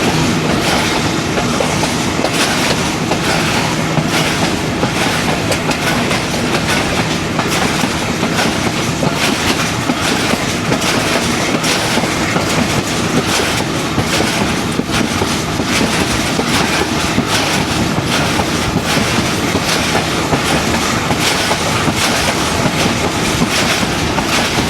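The Rehman Baba Express, a Pakistani passenger train, rolling along with continuous loud clickety-clack of wheels over rail joints and steady roaring rumble from inside the carriage, unbroken throughout.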